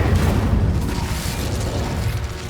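Incendio fire spell in the Hogwarts Legacy video game: a loud, deep rumbling blast of flame that roars continuously for a couple of seconds, then slowly eases off.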